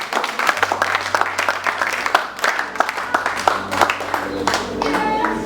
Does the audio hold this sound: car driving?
no